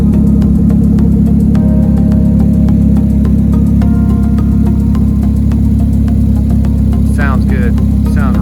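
A loud, steady low engine rumble from a Polaris Slingshot with a Stage 1 turbo and Welter dual exhaust idles throughout with faint ticking, and a voice briefly speaks near the end.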